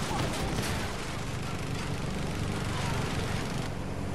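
Dense, continuous rattling gunfire from an aircraft gun run in a combat video game, loud and sustained with no pauses.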